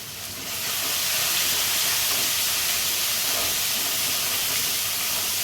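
Spice paste frying in a pan for a Bengali fish curry, hissing and sizzling with a loud, steady steam-like spray that holds nearly unchanged throughout.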